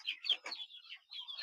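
A Silkie chicken calls to its mate with a short series of faint, high, chirping calls and brief pauses between them, with no talking.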